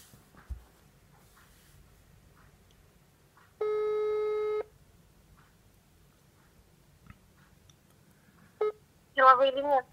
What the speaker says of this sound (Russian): Ладно, звоним дальше. Так, деловые линии. Опыт более 1 года. Уже набираю.